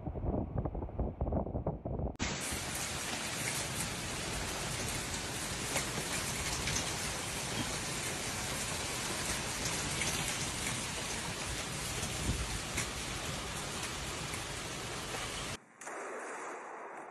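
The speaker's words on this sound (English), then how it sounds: "Severe storms have struck Italy, Emilia-Romagna region, alleged torrential rain, hail and powerful winds that caused flash flooding" Torrential rain pours down during a severe storm in Italy's Emilia-Romagna region, a loud, dense, unbroken roar of drops with wind buffeting the microphone, stopping abruptly near the end.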